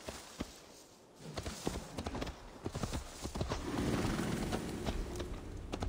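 Horse hooves clip-clop steadily in the game Assassin's Creed Valhalla, near and fairly loud over ambient outdoor sound, with a faint whinny possible amid the footfalls.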